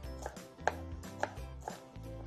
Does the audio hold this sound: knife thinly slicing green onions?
yes